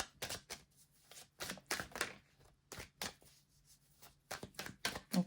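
A tarot deck being shuffled by hand, with a series of crisp riffling bursts and soft slaps at a steady, uneven rhythm, close and fairly quiet with no talking.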